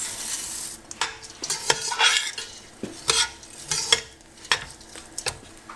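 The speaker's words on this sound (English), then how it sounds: "we're going to add the ground up nuts, the almonds and the pistachios, and the melon seeds" Ground almonds, pistachios and melon seeds are stirred into methi pak cooking in ghee: repeated close scraping and stirring strokes over a gentle sizzle, no talking.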